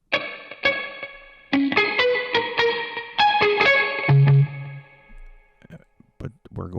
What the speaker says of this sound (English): we're gonna add some distortion to this guitar, and then we have the arpeggiator